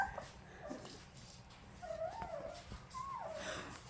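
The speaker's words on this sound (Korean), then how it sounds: "분홍이가 낑낑대는 거였어?" A 20-day-old golden retriever puppy whimpers softly, giving a few short, thin, rising whines and yips close by in a quiet room.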